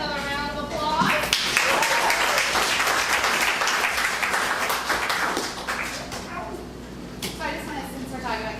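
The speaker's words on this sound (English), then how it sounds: "let's give Cafe Blackadder another round of applause" Audience applause for Cafe Blackadder, loud, dense clapping rising after a brief voice at the start, sustained for several seconds, then thinning toward the end as talking resumes.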